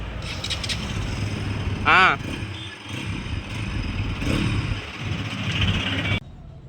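A Bajaj Pulsar NS200 BS6 motorcycle on a trial run: a low engine rumble with a quick sharp rev burst early on, continuing under people talking nearby before cutting off near the end.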